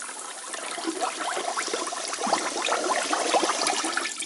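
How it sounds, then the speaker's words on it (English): Water pours steadily into a bowl of homemade apple wine mixture made from organic Nova Scotia apples, giving a continuous close splashing and trickling sound for several seconds. "And then we're just going to top it up with the water."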